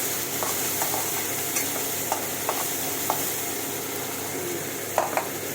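Garlic paste frying in a pan for chicken roast, a soft even sizzle broken by scattered light stirring clicks and scrapes, two sharper knocks near the end, no talking.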